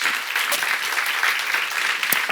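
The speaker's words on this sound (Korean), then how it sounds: "박수 한번 해주세요" An audience at a church seminar claps together in a brisk, even burst of applause that carries steadily throughout, with one sharp louder clap near the end.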